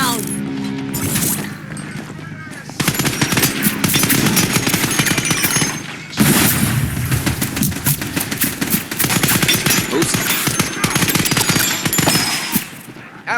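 Rapid automatic gunfire in the shooter game Scavengers, dense bursts of loud close shots with brief gaps, mixed with game sounds and a voice calling out.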